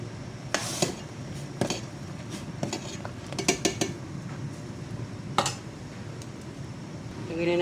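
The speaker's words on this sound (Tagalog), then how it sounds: "Kumukulo na ang ating sabaw. Lagyan na natin ang ating sahog. Dried hipon or kaya pinatuyong hipon." Dried shrimp go into a pot of boiling soup, heard as a series of sharp clinks and scrapes of utensils against the pot, spread irregularly over a low simmering background.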